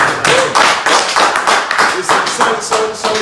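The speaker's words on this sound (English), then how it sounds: "Please, a round of applause." Loud, close clapping for a guest comes in a strong, regular rhythm of sharp beats about three per second, with a voice faintly mixed in.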